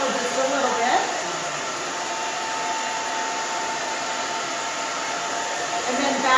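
A hair dryer blows a steady whooshing hum close by while short coiled hair is dried, the tone shifting a little as the dryer moves, under faint talking.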